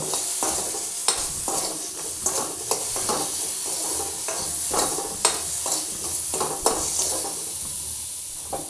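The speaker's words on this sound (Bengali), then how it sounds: "এবার একটু নুন হলুদ দিয়ে একটু ভাজছি" Hog plums fry in a pan with salt and turmeric, with a loud continuous sizzle and a utensil stirring and scraping at irregular intervals throughout.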